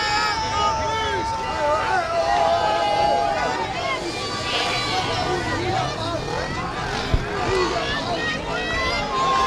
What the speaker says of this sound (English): massive crowd. I mean, probably one of the largest crowds you've ever seen in a West End protest. Marching down heavy down Broadway